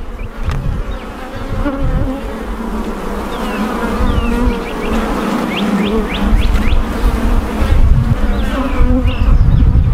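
Honeybees drone steadily around an opened hive during an inspection, a dense continuous buzz with individual bees zipping close past now and then, growing slightly louder toward the end.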